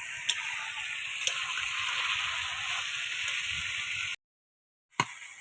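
Goat meat sizzles steadily in a pan while being fried down for kosha, a bright continuous hiss with a few soft clicks, cut by a brief dead gap near the end before the sizzling resumes.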